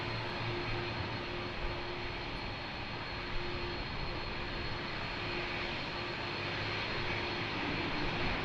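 A Boeing 777 jet airliner at Lisbon Airport produces a loud, continuous engine roar that holds steady throughout.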